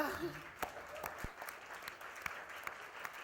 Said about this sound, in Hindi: एक बार जोरदार ताली बजा दे मेरे राजा